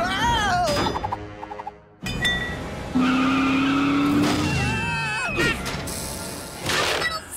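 Cartoon cars in a smash-up derby screech and skid with squealing tires, engine whines and crashing impacts, loud and busy, with brief bursts of animated voices mixed in.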